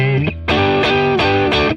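An electric guitar plays a few sustained, distorted blues chords through a Boss Katana amp, each chord ringing out before the next strum.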